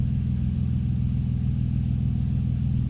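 Car engine under throttle with a lean-running fuel condition, a steady, loud low-pitched drone with even pulsing that holds constant without clear rise or fall in pitch.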